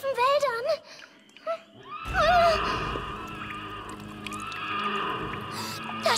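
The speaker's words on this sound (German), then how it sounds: "Das schreckliche Wehen des kopflosen Pferdes." A cartoon headless horse lets out a wavering, drawn-out whinny over a dense animated soundscape, after a brief spoken line at the start.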